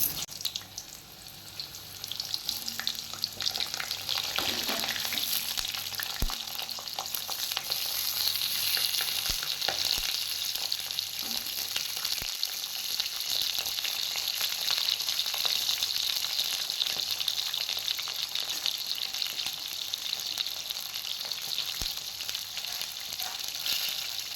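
Pointed gourds frying in oil with whole garam masala, a continuous close sizzle and crackle holding steady throughout, with occasional stirring clicks and no speech.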